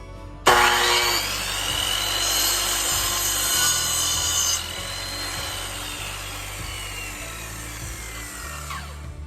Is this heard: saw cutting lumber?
yes